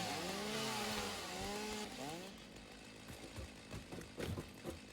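A chainsaw in the video game Satisfactory revs up with rising and falling whines for about two seconds, then gives way to choppy cutting and clattering bursts.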